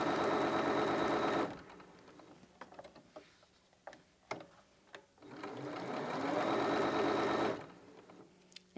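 A Bernina 325 sewing machine runs at a steady whirring hum in two close bursts, with a quiet stretch of small clicks and fabric handling between them.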